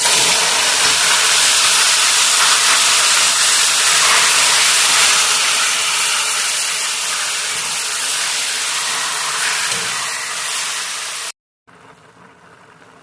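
Chopped green leafy vegetables (hari bhujji) hit hot oil in a pan of browned seeds, an Uttarakhand hill recipe, letting out a loud, steady, hissing sizzle that carries on for about eleven seconds before cutting off abruptly.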